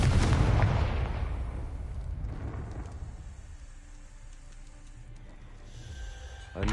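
A Confringo blasting spell explodes in a Harry Potter video game: a loud, sudden boom that rumbles and slowly fades over several seconds, with a faint thump near the end.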